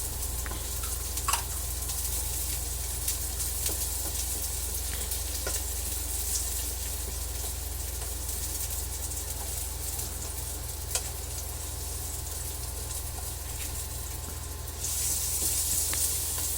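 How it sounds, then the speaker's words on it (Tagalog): Onion and garlic sauté in a pan, a steady close sizzle with faint scraping stirs and occasional soft clicks, and the sizzle swells briefly near the end. "Gisa po natin ng sibuyas, bawang at kamatis."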